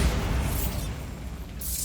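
A Bombarda spell going off in Hogwarts Legacy, a loud, close, deep boom that rolls into a rumbling decay and then a second rushing burst near the end, with no voices.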